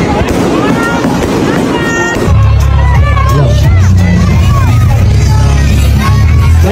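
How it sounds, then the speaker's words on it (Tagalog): Firecrackers crackle and pop in rapid bursts, with a loud steady rumble joining partway through and a crowd murmuring in the background. "May paputok pa."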